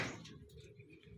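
Racing pigeons arriving at a loft give a short, soft coo amid faint fluttering, heard close and brief.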